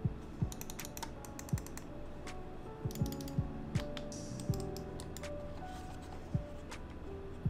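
Crisp, quiet clicks from a computer mouse, irregular single and quick clustered presses spread across the stretch, close and alone.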